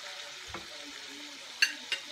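Chicken thighs frying in a pan give a soft, steady sizzle at low level, with a couple of brief utensil clinks near the end and no speech.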